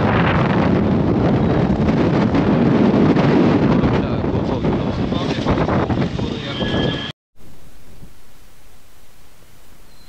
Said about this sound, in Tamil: ஆனால் காற்று தாங்க வேறு லெவலில் அடிக்குது